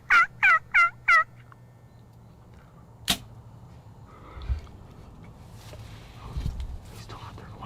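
A wild tom turkey gobbles four times in quick succession, loud and close, during a spring bowhunt. After a sharp snap come quiet rustles and soft whispering.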